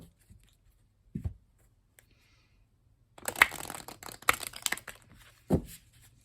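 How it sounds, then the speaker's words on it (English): Oracle cards from a Dark Magick Oracle deck handled and shuffled close up, with a faint soft tap, then a short burst of crisp riffling and slapping card sounds and a final thud, quiet overall. "let's check out how these cards shuffle"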